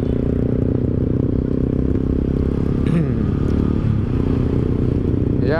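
A Yamaha Scorpio Z motorcycle engine hums steadily under held throttle, a loud, continuous drone close by with a brief clatter partway through and a faint rising whine near the end.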